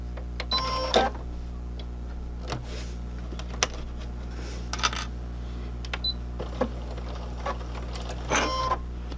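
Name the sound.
sewing machine stitching fabric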